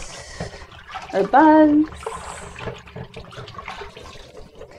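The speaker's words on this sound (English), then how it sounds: "So I have a bowl of water here, and I'm just going to rinse them." Water sloshes as fresh greens are rinsed by hand in a bowl of water, a steady wet splashing that runs beneath a person talking.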